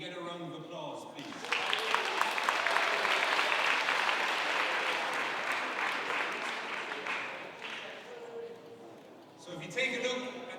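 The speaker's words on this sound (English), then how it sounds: "could we get a round of applause, please?" Audience applause at a sports presentation swells from about 1.5 seconds into sustained dense clapping, then tapers off, with a brief voice near the start and end.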